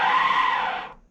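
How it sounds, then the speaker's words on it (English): A steady synthetic brake squeal from an RC car sound module, shrill and fairly loud, holding for about a second before fading out, with no voices. "Oh, you can hear it. Brake sounds."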